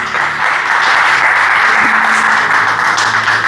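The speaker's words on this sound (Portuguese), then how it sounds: "Pode aplaudir a Jesus?" Steady applause from a church congregation, dense and continuous clapping throughout, fairly loud and close.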